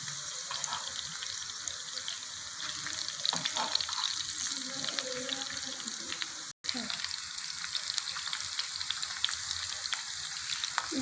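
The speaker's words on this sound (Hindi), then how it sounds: "देखिए हमारे करेले जो हैं कितने अच्छे से फ्राई हो रहे हैं" Stuffed bitter gourds (karela) filled with minced meat fry in hot oil, giving a steady, close sizzle with crackling pops throughout, broken by a brief silent cut near the middle.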